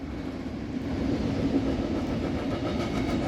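Norfolk Southern train rolling past near a bridge over the east branch of the Black River in Elyria, Ohio, a steady low rumble of rail cars heard nearby, continuous and even throughout, with no talking.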